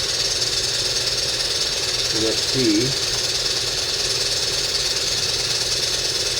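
A steady mechanical chugging and whirring drones on continuously at close range, with someone briefly speaking over it.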